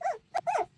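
Young cross-breed puppy whimpering and yipping, two short high cries with a brief yip between them, close and clear with no talk over it.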